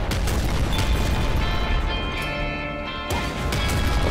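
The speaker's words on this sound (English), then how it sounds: "Double explosion." Explosions from the video game Nuclear Throne, a dense, loud run of booming crashes that keeps going without a break, with a second blast landing near the end.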